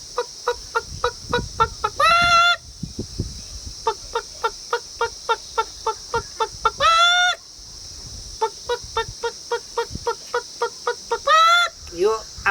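A man mimics a hen's alarmed distress cackle, a rapid run of pulsed clucks broken by three loud, drawn-out squawks, delivered close and alone with no other voices.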